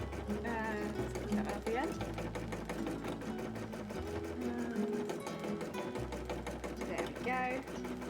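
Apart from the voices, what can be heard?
sewing machine stitching cosplay fabric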